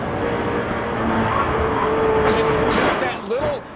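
A NASCAR race car engine is throttled briefly during a race, giving a loud, rough mechanical roar with a short rising burst near the end, under a commentator's voice.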